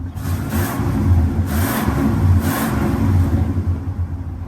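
A 1999 Toyota Land Cruiser engine with over 555,000 miles revs repeatedly, three or four quick swells of rising pitch over a steady low idle, close, with no voices.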